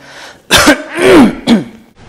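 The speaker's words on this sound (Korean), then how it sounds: "지금 누가 기침 소리를 내었어?" A few loud, close throat-clearing coughs, three harsh bursts in a row.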